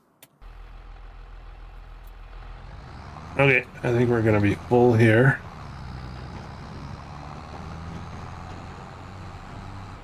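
Truck engine idling steadily in a survival video game, a constant low rumble running throughout, with a person's voice talking briefly over it near the middle.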